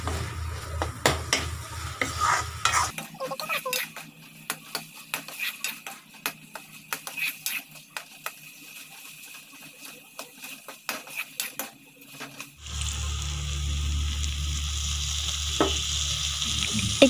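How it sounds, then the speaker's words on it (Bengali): Boiled potatoes stirred with spice paste for an egg curry: utensils scrape and clink against the pan in irregular bursts, then a loud, steady sizzle takes over near the end, with no voices. "আগতেই তো আমি ভাজি নললোঁ একেলগে আমি এই পেষ্টটোৰ লগতে ভাজি ল'ম"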